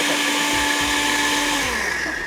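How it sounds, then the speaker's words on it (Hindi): A small kitchen grinder whirs steadily as it blends a single onion into paste, a loud continuous motor whine with a few low thumps from the jar. "एक प्याज को ब्लेंड करके पेस्ट बनाकर"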